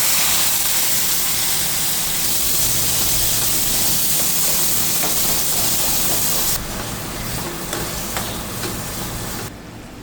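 Raw tomatoes hitting hot oil seasoned with mustard seeds, cumin and turmeric in a wok, a loud steady sizzling hiss that drops in level partway through.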